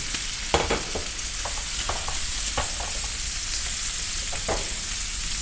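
Mushrooms fry in a pan with bacon, producing a constant close sizzle broken by scattered sharp pops and stirring scrapes, with no talking.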